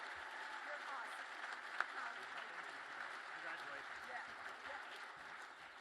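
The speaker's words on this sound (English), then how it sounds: "One more round of applause for Jake and for Jenny" Guests at the Illumination Gala for the Foundation for Barnes-Jewish Hospital give a steady round of applause, a soft, even patter from a room crowd with voices talking over it and one sharp knock partway through.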